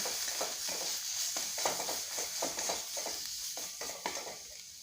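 A spoon stirs salt and turmeric into a filling for a Mughlai paratha, giving a run of repeated soft scraping strokes in a steady rhythm, close and alone with no talk.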